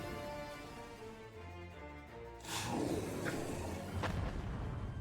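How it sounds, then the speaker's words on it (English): The aura cannon attack fires in the video game Final Fantasy XIV with a sudden booming blast and whoosh midway, cutting in over a low musical background and followed by a brief sharper burst. "Aura cannon. It's just a frontal."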